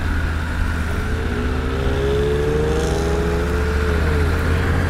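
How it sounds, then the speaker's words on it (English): A Triumph Tiger 900 motorcycle engine pulls up from low revs with a steady drone and a gradually rising pitch. Wind rushes continuously over the riding sound. "From really low RPMs, you can see this bike pulls out really nicely"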